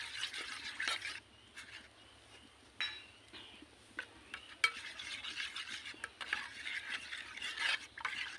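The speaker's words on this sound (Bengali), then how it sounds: "এই দুধের সঙ্গে এখানে মিশিয়ে নেব" Powdered milk being stirred into liquid milk in a pot, a scraping, swishing spoon sound in several bursts with short pauses, fairly close and alone.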